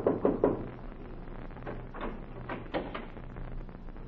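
Knuckles rap on a house door in an old radio drama, with three sharp knocks up front followed by softer scattered taps and rustling.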